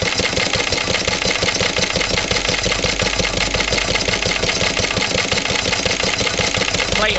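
Two Lister stationary engines, a 1945 Lister D and a 1960s Lister LD1, run together at a steady idle, a loud, close, rapid chugging thump that continues evenly throughout.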